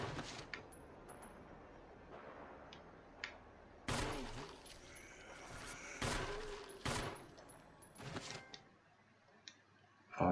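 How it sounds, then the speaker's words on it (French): Gunfire in the Resident Evil video game, several sharp shots fired in quick bursts over a continuous game backdrop, with brief gaps between volleys. "Je viens de gâcher je sais pas combien de balles"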